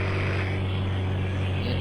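Jets in the Indian Bike video game roar with a steady, dense engine drone and a strong low hum that stays constant and close throughout, with no talking.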